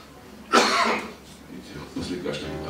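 A single loud cough up close, followed by a quieter throat-clearing and a soft second cough.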